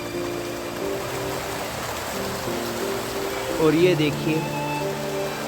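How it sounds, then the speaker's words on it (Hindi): Small waterfall in a forest near Rishikesh, a continuous soft rushing hiss of falling water with steady hum underneath, while someone speaks briefly over it. "ये रास्ते में हमें दिखा एक छोटा सा झरना"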